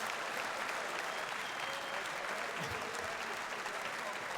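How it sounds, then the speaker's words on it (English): Loud, sustained applause from a large audience at the ADAC SimRacing Expo 2019 for the Porsche Sim Racing Trophy champion, steady clapping with a faint murmur of crowd beneath it. "This is your applause."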